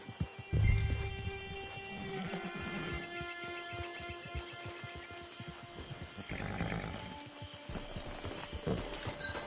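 Horse hooves clip-clopping in The Last of Us, a steady galloping patter over ambient game music and a low thump near the start.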